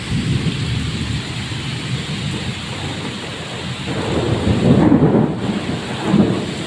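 Heavy rain pours outside a house doorway in a gusty storm, a dense, steady roar with deep thunder rumbling up around the middle. No voices.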